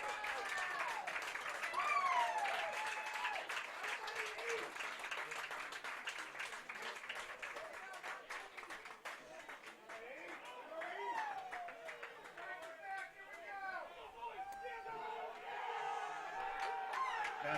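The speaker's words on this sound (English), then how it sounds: "Roars from the crowd" Crowd at a Class B state tournament baseball game roars and applauds after a solo home run, a sustained wash of cheering and clapping with scattered shouts, fairly steady with swells throughout.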